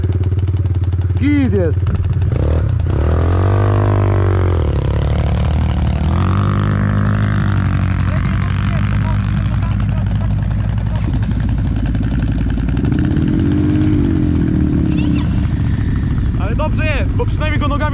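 A quad bike (ATV) engine revving and idling up close during a ride, loud and steady throughout, with changing pitch as the throttle rises and falls, while people talk over it.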